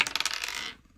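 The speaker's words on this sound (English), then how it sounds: "And I'm throwing dice all over the room." Dice are thrown across a room and clatter in a quick run of bright, rattling bounces that thin out and stop within about a second.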